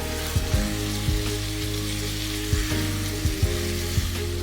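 Chicken pieces with coriander, red chilli, cumin, garam masala and salt frying on medium flame for a restaurant-style Mughlai handi, a loud steady sizzle broken by periodic soft stirring thumps, no speech.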